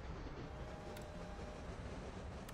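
Train engine in a Minecraft-style video game, heard as a steady low rumble with faint rail clatter at a distance, quiet and continuous with no talking.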